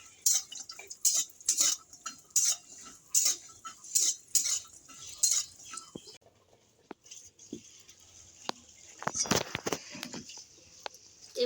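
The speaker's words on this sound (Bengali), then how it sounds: "আগে ডালের বড়িটা একটু ভেজে নেব।" Lentil dumplings (dal bori) frying in a pan while bitter gourd curry (sukto) is prepared, heard as rhythmic scraping and clinking of a utensil against the pan, with louder sharper sizzle bursts near the end and no talk.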